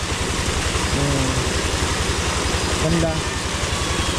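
An engine with a newly replaced bushing runs strongly, giving a steady, fast, low rhythmic chugging throughout while people talk over it.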